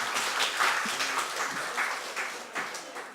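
Moderate applause from a church congregation during a Sunday morning service, welcoming the choir before its hymn; a few seconds of scattered, fairly soft clapping with no voices.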